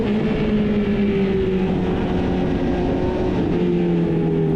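A loud exhaust on a 2024 Honda CB650R holds a steady, high engine note, the pitch rising gently and then sagging slightly as the bike pulls along, recorded close from the saddle.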